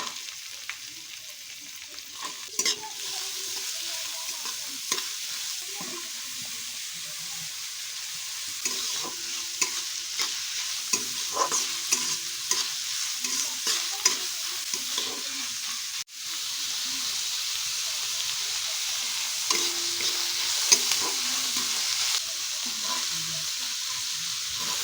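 Garlic, green chilli and onion fry in hot oil for paneer spring rolls, a steady close sizzle running throughout with frequent scraping stirs of a spatula, no voices.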